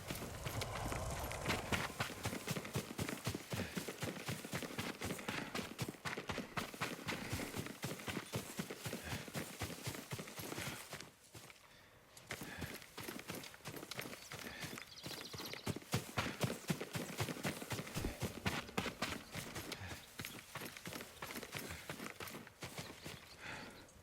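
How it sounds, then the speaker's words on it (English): Hooves clip-clop steadily on a horse in the video game Ghost of Tsushima, a continuous rapid clatter of hoofbeats that pauses briefly midway, then resumes at full pace. "Yuriko's horse. She can't be far."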